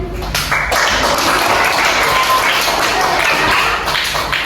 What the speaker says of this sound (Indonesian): Kalau betul, tepuk tangan.